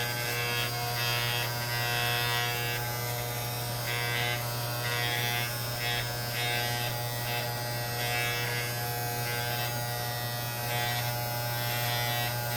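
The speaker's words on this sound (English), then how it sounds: "the top is the easiest when you just use the clipper" Electric hair clipper buzzing steadily while cutting hair, a loud continuous close-up drone with a rhythmic rise and fall as the blade passes through the hair.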